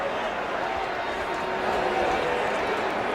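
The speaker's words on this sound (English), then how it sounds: "obviously the crowd hates this call" A large stadium crowd at a CFL football game, Winnipeg Blue Bombers at Saskatchewan Roughriders, roars in a sustained, dense wash of noise against a referee's call, a broad rumble with no pauses.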